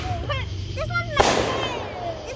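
Fireworks going off outdoors, a quick crackling popcorn-like burst after short whistling rises, with people chatting around it.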